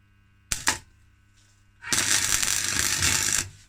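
Metal parts of a motorised drift trike built from a salvaged hoverboard are welded: two sharp clicks, then a close, loud crackling buzz that holds for about a second and a half before stopping.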